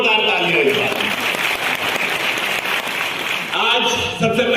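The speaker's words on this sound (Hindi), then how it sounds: "जोरदार तालियां इस बार" Audience applause at an International Minority Day public gathering, a dense continuous burst of clapping close by, filling the whole stretch with a brief dip near the end.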